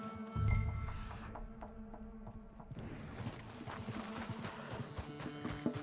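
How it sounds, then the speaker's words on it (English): Horse hooves clip-clopping in Red Dead Redemption 2, a faint thud and snort at first, then a steady run of rhythmic hoofbeats over ambient game sound. "I got the horses."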